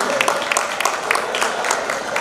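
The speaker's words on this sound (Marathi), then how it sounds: "सुकन्या ओवी तिचे मैदानात आगमन झालेले जोरदार टाळ्या वाजवून सगळ्यांनी ते स्वागत करायचंय" Crowd at a local cricket tournament match applauding a person arriving on the ground, a scattered, continuous patter of many hands clapping heard at a moderate distance under a noisy open-air background.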